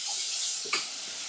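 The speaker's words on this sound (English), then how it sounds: "Stirring that through." A spoon stirs ginger through softened onions and garlic in a hot pan, giving a brief scraping swirl over a steady soft sizzle, with no talking.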